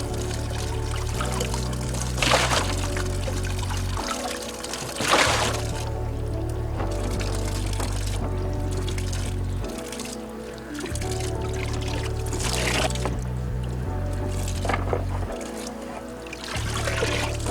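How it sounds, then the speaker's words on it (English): A pond's own pump draining water out of a small guppy pond, a steady gurgling pour and trickle with rhythmic surging and splashing that cycles every few seconds, close and fairly loud. "I'm actually using the pond's own pump to pump the water out of here"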